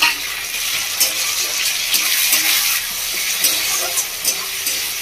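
Tomato pieces fry in a pan with loud, busy sizzling and occasional stirring scrapes, a continuous close crackle with no talking.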